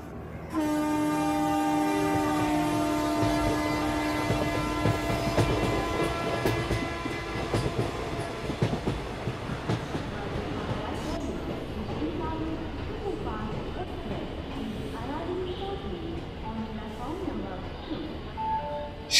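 Passenger train on the Sealdah line, opening with a long loud horn blast, then a steady rumble of wheels on rails with clattering, close and continuous throughout.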